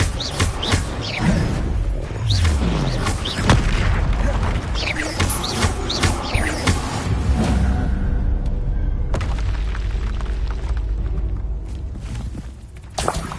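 Confringo blasting spell explosions amid spell combat in Hogwarts Legacy, loud repeated booms, thuds and crackling impacts in dense succession, with layered magical whooshes and clanks throughout.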